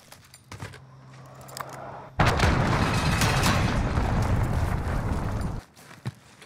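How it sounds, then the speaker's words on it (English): A cruise missile blast in Call of Duty Modern Warfare erupts as a loud, sustained broadband roar of about three and a half seconds, cutting in abruptly after quieter game ambience and faint thumps, then dropping away sharply. "Enemy cruise missile."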